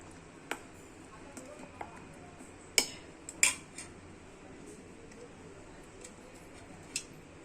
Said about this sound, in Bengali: এইরকমভাবে দিয়ে চামচ দিয়ে ভালো করে মিক্স করে নিচ্ছি